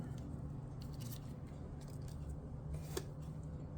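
Small scissors snip at a nail wrap up close, giving a few quiet, crisp cuts over a faint background hiss.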